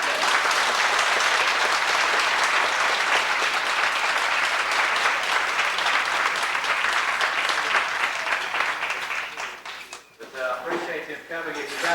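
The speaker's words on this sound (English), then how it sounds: "So let's give them a big round of applause." A town hall meeting audience about a Veterans Hospital breaks into loud, sustained applause that fades near the end, then a voice begins speaking.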